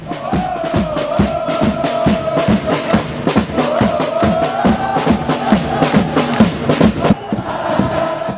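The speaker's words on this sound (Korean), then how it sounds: "응원석이 환호의 도가니로 바뀌면서 점프 동작이 격렬해진다." Vissel Kobe supporters in a stadium stand chanting and cheering loudly in rhythm after a goal, with regular pounding thumps from the crowd jumping in unison, dense and sustained throughout.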